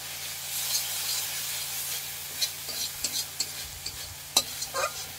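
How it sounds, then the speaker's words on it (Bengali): Shrimp stir-fried with spice masala in a pan, a steady close sizzle with scraping stir strokes and small spatters and clicks rising toward the end, no voices. "পটল চিংড়ি করতে গেলে মশলার সাথে চিংড়ি মাছটাকে ভালো করে কষতে নিতে হবে।"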